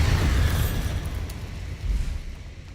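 A Bombarda blasting spell goes off in Hogwarts Legacy, one loud rumbling boom that swells at once and then rolls and decays over a few seconds, close and alone.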